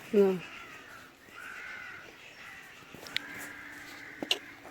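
Crow cawing outdoors at a birthday gathering, a few short harsh calls rising over steady background noise.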